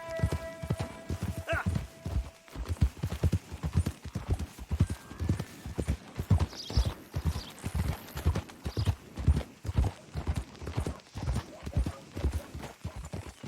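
Horse hooves clip-clopping steadily in Red Dead Redemption 2, a close, even rhythm of hoofbeats throughout, with a brief whinny early on.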